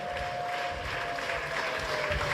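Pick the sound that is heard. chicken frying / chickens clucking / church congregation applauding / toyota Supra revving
church congregation applauding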